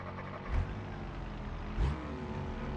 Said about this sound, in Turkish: Bu araba neden istop